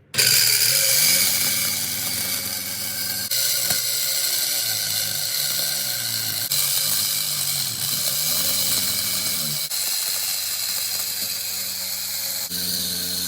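Scrap metal being cut with a blade power tool for a welded rose project, a loud, continuous grinding rasp with a steady mechanical whir running nearly unbroken throughout, pitch wavering slightly as the blade bites.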